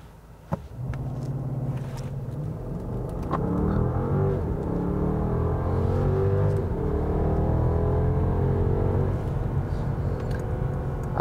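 A 2021 Mercedes-Benz S 580 4Matic V8 at full throttle: after a short click the engine note climbs and swells through rising gears, loud and continuous, heard from inside the cabin.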